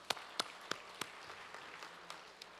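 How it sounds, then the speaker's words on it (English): A few scattered, fairly faint hand claps ring out in a church during a homegoing funeral service, sparse and irregular with quiet room tone between them. "Let's give God a round of applause"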